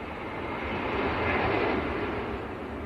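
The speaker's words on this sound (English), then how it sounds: "this is your EasyJet, just taxiing out now, just past the BizJet ramp" An EasyJet airliner taxiing at Manchester Airport, a steady broadband engine roar heard from outside, swelling slightly and easing again over a few seconds.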